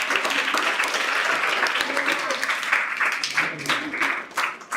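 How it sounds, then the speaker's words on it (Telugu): Second-grade schoolchildren in a classroom clap together for a girl, a bright, steady patter of small hands with voices mixed in, the rhythm loosening and breaking up toward the end. "ఆ పాప క్లాప్స్ కొట్టండి అంత."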